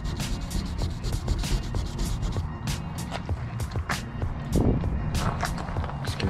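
Sandpaper of 400 grit works over vintage hand lettering on a VW single cab, a loud, close, continuous scratchy rasp of quick back-and-forth strokes with no pauses.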